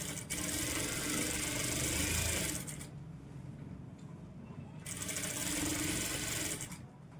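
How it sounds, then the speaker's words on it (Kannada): Sewing machine stitching a blouse sleeve, running in two steady bursts of close, buzzing mechanical whir with a brief quieter pause between them, and no talking. "ಇನ್ನು ಪೂರ್ತಿಯಾಗಿ ಒಂದು ರೌಂಡ್ ಇನ್ನೊಂದು ಸ್ಟಿಚ್ ಹಾಕಿಬಿಟ್ರೆ ಇಲ್ಲಿ ನಮ್ಮದು ಸ್ಲೀವ್ಸಿಂದು ಸ್ಟಿಚಿಂಗು ಮುಗೀತು"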